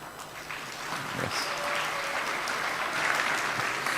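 Warm, sustained applause from an obstetrics conference audience for a speaker from Hospital del Norte in El Alto, La Paz, building slightly and holding steady.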